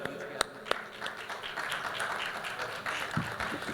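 Audience applause for a poet at a stage event, a diffuse wash of many hands clapping with a few sharp close claps, moderately faint and continuous.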